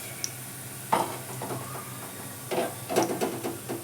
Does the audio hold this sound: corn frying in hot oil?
yes